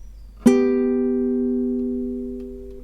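The third and fourth guitar strings plucked together once, ringing out clearly and sustaining as they slowly fade.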